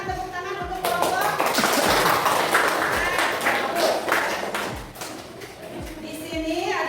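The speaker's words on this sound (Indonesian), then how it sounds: "silakan tepuk tangan untuk kelompok" Classroom applause for a student group during an Islamic history lesson, a burst of clapping from many children amid chatter and a few thumps, with a teacher's voice speaking over the start.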